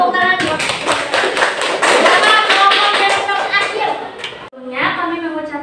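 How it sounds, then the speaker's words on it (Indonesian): An audience, including children, claps in a fast, close burst of dense hand claps. The applause stops briefly, and then a voice speaks over what remains. "Tepuk tangan."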